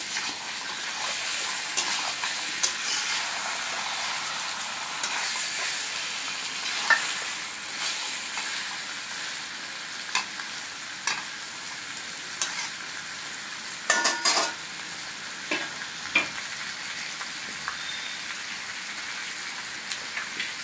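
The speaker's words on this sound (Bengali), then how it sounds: "এভাবে এখন 40 মিনিট ধরে কষাবো।" Meat slow-fries in a pan with a soft, steady sizzle and occasional scraping stirs, fairly quiet and continuous, with no one talking.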